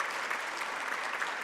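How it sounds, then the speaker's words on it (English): Steady applause from an awards ceremony audience, a dense even wash of clapping at a moderate distance, with no voices on top. "So can we get a round of applause for our sponsors?"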